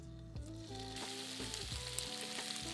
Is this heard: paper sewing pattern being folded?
no